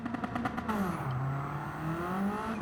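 A Suzuki Escudo running its original engine in Gran Turismo 7 revs hard and climbs through the gears, with a rising whine and steady drone after a brief shift, heard alone and moderately loud.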